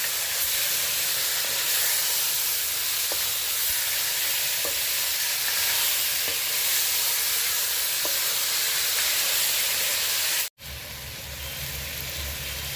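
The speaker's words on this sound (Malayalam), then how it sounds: "ഇത് നമുക്ക് വിരിക്കിടാം. നല്ലതുപോലെ മിക്സ് ചെയ്ത് കൊടുക്കാം." Chopped country chicken stirred and mixed in a hot pan, a continuous broad sizzle with faint periodic scrapes of the spoon, close and steady, briefly cut off near the end before resuming.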